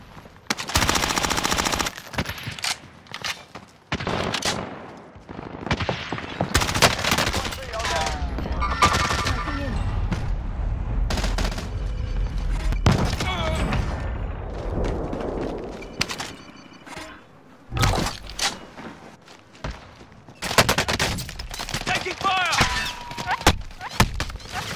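Bursts of machine-gun fire and single gunshots in Call of Duty: Modern Warfare, loud and close, in repeated volleys with thuds between them, with game voice lines heard among the shooting.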